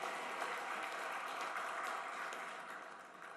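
Crowd at a police bravery award ceremony clapping in a steady, even roar, held for a few seconds and tapering slightly at the close, without speech over it.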